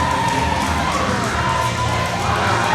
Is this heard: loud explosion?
no